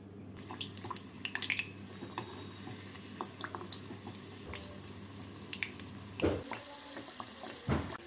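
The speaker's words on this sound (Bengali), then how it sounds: "কচুরিগুলো ভাজার সময় আমি গ্যাসটাকে মিডিয়াম টু লো হিটে করে কচুরিগুলো ভেজে নিচ্ছি।" Fish kochuri deep-fry in plenty of hot white oil over medium-low gas heat, giving a steady, soft bubbling crackle with scattered sharper pops, fairly quiet and close.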